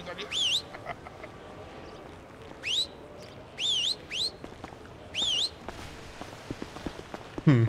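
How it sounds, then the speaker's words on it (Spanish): A person whistles in short rising-and-falling bursts, about six separate whistles with gaps between, fairly close over faint background noise and scattered footsteps. "Está bacano eso, ese silbatico"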